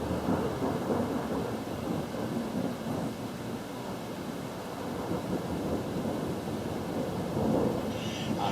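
A night thunderstorm with constant lightning near Newington, Tennessee, north of Memphis: rolling thunder rumbles on and on under steady rain and gusts of wind noise, with no voices.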